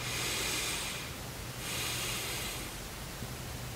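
Slow, deep breaths drawn in through the nose, two long airy inhales close to the microphone, each swelling and fading with a brief pause between.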